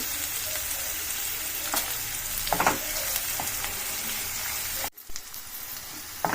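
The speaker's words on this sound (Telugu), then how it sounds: "ఆనియను ఉల్లిగడ్డ కొంచెం ఫ్రై అయిందండి" Sliced onions fry in a pan for a fenugreek-leaf tomato curry. A loud, continuous sizzle comes with scattered stirring scrapes, and a sharp clatter near the end briefly cuts the hiss before it resumes.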